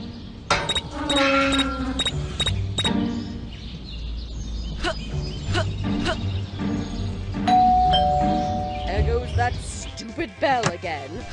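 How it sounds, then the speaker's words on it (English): Repeated ding-dong doorbell chimes in the Scary Teacher video game, several bright rings in quick succession, mixed with game sound effects and character speech. "That stupid bell again."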